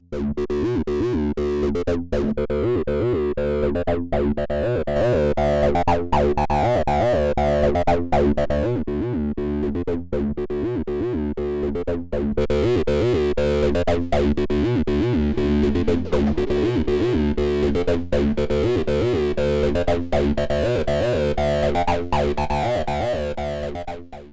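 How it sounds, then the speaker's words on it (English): A distorted, buzzy synth bass line loops in a steady rhythmic pattern, gritty and loud with harmonics, playing alone throughout. "engage a multiband compressor as well as another distortion to crank up the sound and create even more crunchy harmonics"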